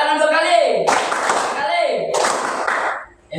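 A school class clapping hands on cue in a classroom, two loud bursts of group clapping, with a voice speaking before and between them.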